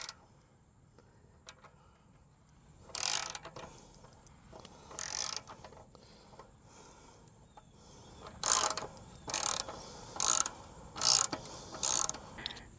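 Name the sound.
ratchet with 10mm 6-point socket loosening a clamp bolt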